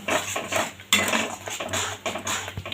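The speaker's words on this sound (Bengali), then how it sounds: "ভালো করে একটু কষিয়ে নেব মশলাটা।" A spoon stirs and scrapes a drumstick flower mixture sautéing in a metal pan, giving rhythmic metallic scrapes and clinks in short bursts close up, with a soft sizzle underneath and no talking.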